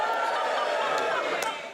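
A studio audience at a TV panel quiz show cheers and whoops together, a brief dense crowd roar with a few sharp shouts standing out.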